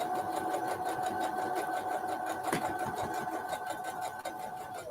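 A home sewing machine runs steadily at close range, a continuous buzzing motor hum with a fast repetitive needle chatter and no talking over it.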